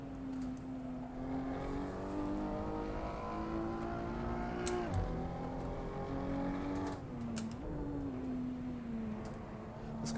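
A racing car engine in the Assetto Corsa driving game hums steadily at moderate revs, its pitch dipping and climbing through gear changes and corners, with no speech.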